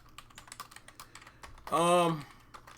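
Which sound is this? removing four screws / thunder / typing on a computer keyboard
typing on a computer keyboard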